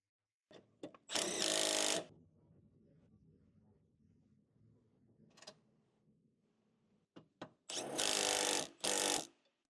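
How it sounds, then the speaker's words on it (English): Ford Explorer engine mount frame bolts are driven with a 13mm socket on an extension, heard as two loud bursts of power-tool whirring separated by a long quiet stretch with a few small metallic clicks. "Hand start the 2 frame bolts and use a 13mm with extension to tighten."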